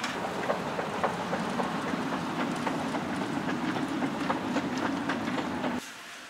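A Moscow metro subway train rattles along with a loud steady rumble and rhythmic clickety-clack of wheels over rail joints, cutting off abruptly near the end.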